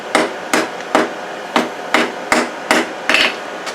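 Hammer tapping steel cable on an anvil to set it for a forge weld in cable Damascus knifemaking, eight sharp metallic strikes at a steady, unhurried pace, close and loud with no talk.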